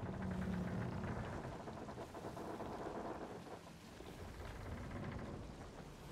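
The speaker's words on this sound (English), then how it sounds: "This is the sound of your ship groaning and getting ready to sink." A deep, continuous creaking rumble with low, heavy groaning and a wash of water-like noise, steady and loud for several seconds, no voices: a ship in the video game Sea of Thieves groaning, taking on water before sinking.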